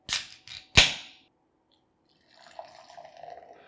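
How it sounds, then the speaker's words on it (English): Low-carb keto beer poured into a glass: three sharp snapping clicks up front, a short silence, then a soft, steady fizzing pour with a hissy gurgle, fairly close, with no talking. "You're pouring the whole glass?"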